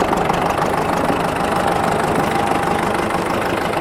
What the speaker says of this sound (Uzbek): Texnikamizni motor qismlaridan ham eshitib turibsizlar. Juda ham zo'r holatda ishlayapti.